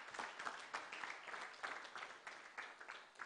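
Applause from a seated audience after a business presentation on intellectual property in Zimbabwe, a steady wash of many hands clapping at moderate distance, sustained for a few seconds with no voices.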